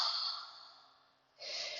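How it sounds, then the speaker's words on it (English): A deep exhale during gentle yoga breathing, a long, close airy breath that fades away and is followed by a fresh intake of air, with no talking. "Let's do one more inhale and a big exhale."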